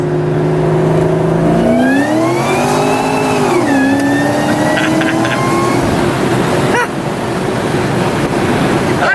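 A car doing a burnout on pump gas, its engine revving hard and climbing in pitch, dipping as it shifts and grabbing again, loud and close over a broad roar of tire noise that runs the whole clip.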